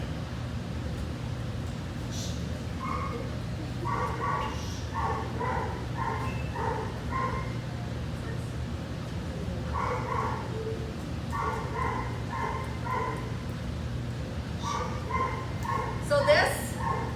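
Anxious dog during treadmill training, barking and yipping in short repeated bursts with whimpers between, over a constant low treadmill hum, close and moderately loud, with a person's voice heard at times.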